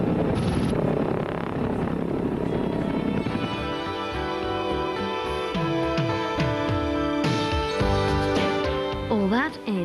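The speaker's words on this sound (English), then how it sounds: "The helicopter's getting a bit close" A helicopter flies close overhead, a continuous loud droning whir heard under voices and a tonal musical backdrop, holding steady throughout.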